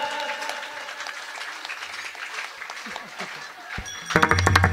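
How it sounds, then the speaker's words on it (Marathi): An audience claps together in rhythm at a Marathi kirtan, with steady clapping building louder near the end under a singing voice. "अहो टाळ्या वाजव मला नाही टाळ्या टाळ्या एक साथ"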